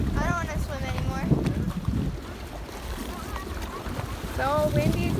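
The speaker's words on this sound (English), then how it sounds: "So windy today." Wind gusts steadily across open water on a camping trip, a constant rushing roar buffeting the microphone while children's voices call out over it.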